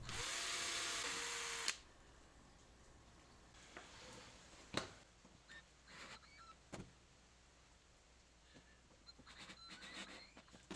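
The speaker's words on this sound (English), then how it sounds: "drill the 36-inch piece with a 1/16 inch bit and fasten with drywall" A power drill with a 1/16-inch bit whirs loudly into a wooden 1x3 for about two seconds, then stops, followed by scattered clicks, taps and light handling sounds at moderate distance.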